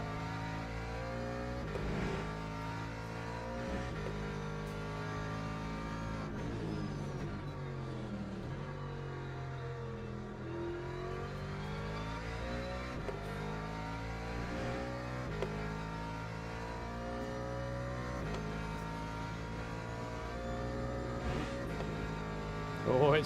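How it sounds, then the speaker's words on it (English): Race car engine in the Le Mans Ultimate sim racing game, a steady droning drone with revs rising and falling as the tyres skate and squirm for grip, running continuously with talk over it. "You can hear it dancing on the tyres a little bit."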